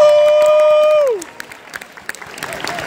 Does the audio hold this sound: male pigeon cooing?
no